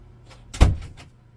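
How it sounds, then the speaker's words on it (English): An indoor door is pushed shut with a single solid thud, while a washing machine hums faintly and steadily in the background. "I should shut the door, we got the washing machine going"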